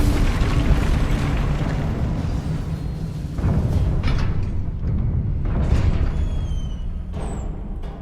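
Fiery Confringo spell blasts in the Hogwarts Legacy game, dense booming bursts in quick succession, a heavy rumbling roar that swells and surges several times across the stretch, with crackling highs over the low thunder.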